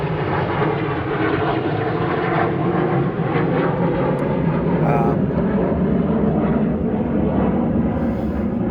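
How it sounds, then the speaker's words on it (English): A jet aircraft roars overhead in a broad, continuous rumble that holds steady throughout, loud and dominating the scene. "wait for the jet to pass over"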